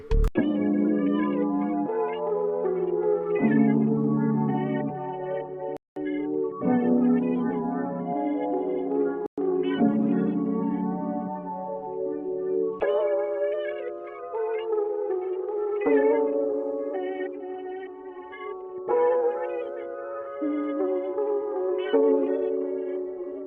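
A chopped, stuttering granular melodic sample with sustained tonal layers and a washy Valhalla Vintage reverb tail, playing continuously and fairly loud with brief gaps.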